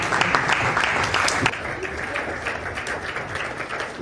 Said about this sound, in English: Keep clapping as she gets here.